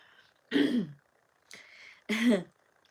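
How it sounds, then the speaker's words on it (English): Three distinct throat clearings, close and fairly loud, separated by short pauses, with the middle one softer than the others. "It's not even coughing, it's clearing my throat."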